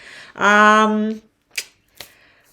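Tarot cards shuffled by hand: a short, bright riffling burst followed by two quick, crisp card taps, close and clear with no talking.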